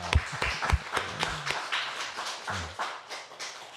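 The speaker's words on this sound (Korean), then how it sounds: "박수로 축하합시다" Sparse, uneven clapping from a small church congregation, a few sharp close claps at first, then scattered softer claps trailing off in a quiet room.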